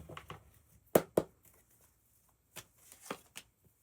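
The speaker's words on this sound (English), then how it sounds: "I'm almost done with this shuffling." A deck of tarot cards is shuffled in quick papery bursts: two sharp riffle snaps near the start, then a pause, then a few lighter flicks and slides, all close and alone.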